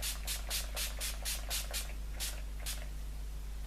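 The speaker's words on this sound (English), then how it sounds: "Now I'm gonna apply a little bit of makeup setting spray." Makeup setting spray misted in a quick series of about nine short pumps, close and crisp, over a faint steady hum.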